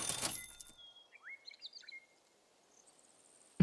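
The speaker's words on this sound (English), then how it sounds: "There's so many birds here." Birds in a video game give a few quick, thin chirps and rising tweets that fade into near silence after a soft rustle at the start.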